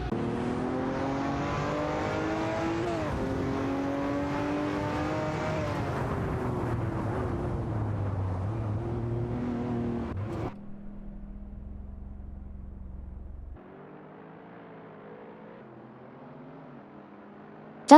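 Race cars in a video game, including a McLaren 570S, rev and accelerate in tonal engine whines that shift pitch. These give way to a low steady drone, then a thinner hum, with no talk.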